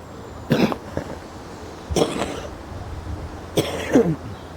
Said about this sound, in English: I'm really sorry about my cough, but it's actually getting better.